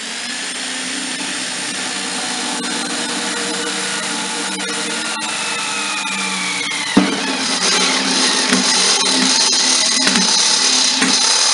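A power drill with a step drill bit runs steadily at close range, its whine shifting pitch partway through as the bit bites, followed by a few sharp knocks.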